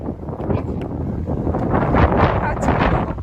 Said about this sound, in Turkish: Oy çok fena rüzgar esiyor.